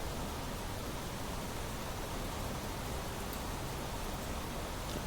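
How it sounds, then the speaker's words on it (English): Heavy torrential rain roars without a break in the video game Planet Crafter, a dense, even downpour of tropical-storm strength that fills the whole stretch. "Whoa, torrential rain."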